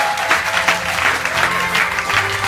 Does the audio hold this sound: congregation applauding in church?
yes